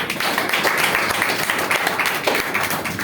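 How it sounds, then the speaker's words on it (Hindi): A crowd claps together in a steady, continuous burst of applause, fairly loud and close, lasting the whole few seconds. "एक बार जोरदार ताली इनके लिए।"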